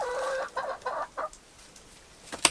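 A chicken in a cattle panel greenhouse gives a run of four or five short, close clucks in an uneven rhythm, then falls quiet before a sharp, brief squawk at the end.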